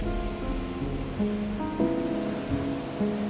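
Ocean surf washes steadily as a rehabilitated seal slides into the waves, a continuous broadband rush with soft swells and a faint tonal layer running over it.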